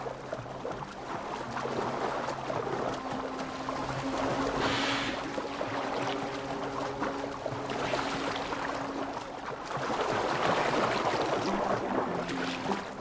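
Water splashes and laps against a boat's hull as it is steered through Assassin's Creed Valhalla, a steady rushing wash with faint creaks and a low drone, rising again toward the end.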